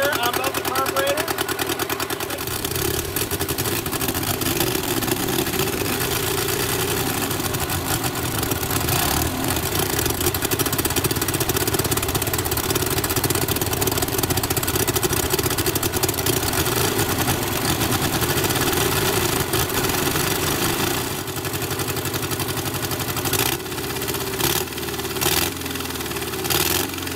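A classic Austin-Healey Sprite engine with twin carburetors idles loudly and continuously throughout, a rough mid-pitched running drone with a brief change in tone near the end.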